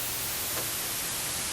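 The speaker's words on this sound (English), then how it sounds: "our white noise" A constant hiss of white noise fills the short sample evenly and loudly, with no rhythm or change in level.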